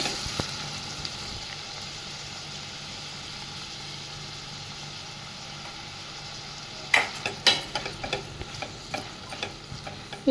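Tomatoes with salt fry in oil in a pan for a drumstick and brinjal pulusu, giving a steady low sizzle that ends in a burst of close stirring scrapes and clinks, with no talking.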